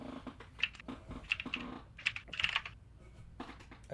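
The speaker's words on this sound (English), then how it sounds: "I hear someone typing." Fingers type on a computer keyboard in quiet, irregular bursts of crisp clicks, close by, with short pauses between groups of keystrokes.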